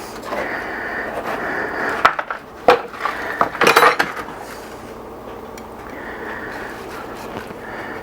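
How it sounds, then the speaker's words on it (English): A knife cuts two bones off a rack of pork ribs on a board, heard as a few sharp clicks and cracks in quick succession over a low kitchen hum, followed by quieter scraping. "I'm going to go ahead and cut 2 bones off"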